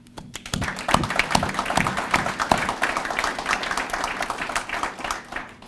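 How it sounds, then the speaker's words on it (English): An audience bursts into applause, sharp individual claps building quickly into a sustained, lively round that stays strong, close and clear to the end, with no talking over it. "all of you deserve a tremendous amount of applause"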